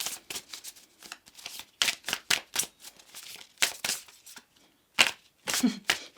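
Tarot cards being shuffled by hand. The clip has a series of crisp riffling and snapping bursts at an irregular rhythm, each one close and distinct, separated by brief quiet gaps.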